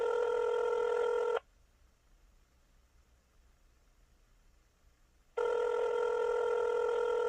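A telephone rings in an office, two loud sustained electronic rings separated by a few seconds of near silence, with no voices.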